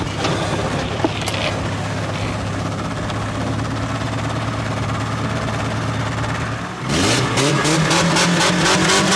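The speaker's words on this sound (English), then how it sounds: "We got a burnout." Race car doing a burnout at the Freedom 500 event, a loud, sustained engine roar with revving that surges sharply near the end, heard up close without talking.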